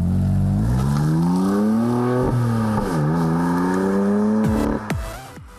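A fifth-generation BMW M3 engine snarls loudly while driving. It rises and falls through several gear changes and revs, then ends with quick downshift blips as the car fades off.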